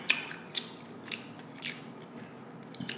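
Close, quiet crunching bites and chewing on fried chicken wings with sweet and sour sauce, a few sharp crisp bites amid soft irregular mastication.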